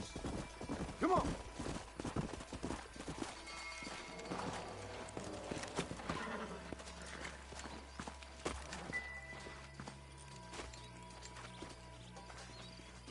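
Horse hooves clop in a video game, a quiet, irregular walking rhythm mixed with soft game ambience and faint background sounds.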